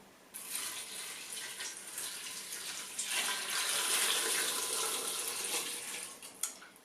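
Cold water runs steadily into a pot of dried avocado skins and pits, a hissing, splashing stream lasting about six seconds before tapering off abruptly, with no voices.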